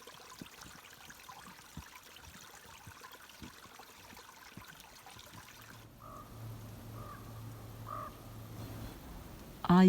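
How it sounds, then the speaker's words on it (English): Juncos calling outdoors: faint, scattered chirps in the latter half, set against a soft wash of outdoor noise with what sounds like trickling water and other distant birds. "You can hear the juncos."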